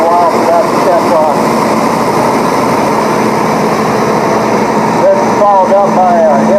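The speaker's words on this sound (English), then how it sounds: "Got a G706 coming here, it's front wheel assist" A Minneapolis-Moline G706 front-wheel-assist tractor rumbles along in a parade at a steam threshers' reunion with a steady engine drone, loud and close, while someone speaks over it.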